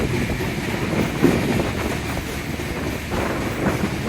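A Dinajpur–Dhaka passenger train rolls along, heard from inside its front coach as a steady, loud, continuous rumble with faint rail clatter and no voices.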